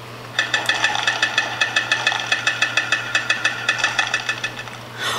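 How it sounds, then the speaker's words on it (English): Rock breaker construction vehicle sound played from a children's sound book: a steady, loud mechanical rattling hammer of evenly spaced rapid blows over a constant low hum, ending with a short burst of hiss. "Was it the rock breaker? That's a really cool vehicle."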